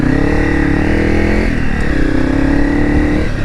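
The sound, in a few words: Honda CRF300 Rally motorcycle riding single track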